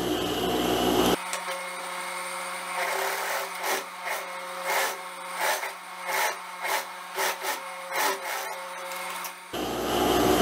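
A sewing machine topstitches close to the edge of a skirt facing, running in several short, rapid bursts of stitching with brief pauses between them, close by.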